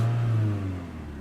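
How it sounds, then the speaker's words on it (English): A 2001 Toyota Altezza RS200 Z Edition, a Japan-import sedan with about 101,000 km, gives a short engine rev: a steady mid-pitched hum that swells briefly and then settles, heard close and alone. "Give it a little rev for you."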